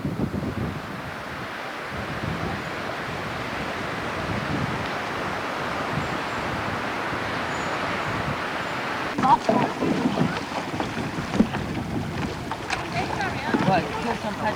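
A canoe is paddled on open water at Kielder Water during a summer camp. Gentle splashing and wind buffeting run throughout, with irregular paddle strokes growing more distinct toward the end.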